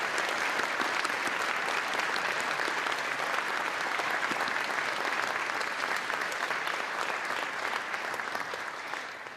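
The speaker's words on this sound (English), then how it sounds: "Please join me in applauding the generosity of these premier sponsors" Sustained, dense applause from a gala audience thanking sponsors, an even wash of many hands clapping that holds steady and eases off slightly at the end.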